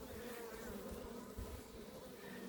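Honey bees on a comb hum in a steady, soft, continuous drone, close by and faint, with no voices.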